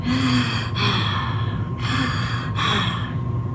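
A voice imitating heavy panting: three or four long, breathy rasping exhalations, close and loud, with short pauses between.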